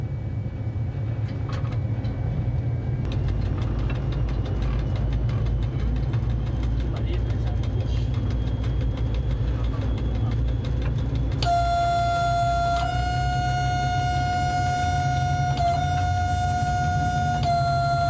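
ONCF DF 100 (CC 72000) diesel locomotive pulling away and gathering speed, a loud steady low engine rumble throughout with rhythmic knocking, joined late by a sustained high whistling tone.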